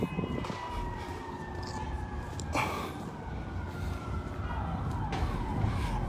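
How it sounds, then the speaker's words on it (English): Distant sirens wail faintly over steady street and traffic noise in St Paul, Minnesota, rising and falling without any talk. "I hear sirens."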